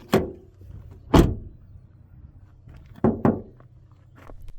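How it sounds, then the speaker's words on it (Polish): Door slams on a 2024 Toyota Land Cruiser hybrid, four sharp thuds close by, two spaced apart and then two in quick succession, each with a brief hollow ring. "zamykanie drzwi brzmi jak walenie pokrywką od garnka"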